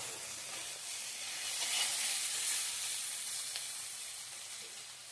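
Soft, steady sizzling from a pan of vegetables sautéing on the heat for brinjal curry, a gentle continuous hiss with faint stirring sounds and no talking.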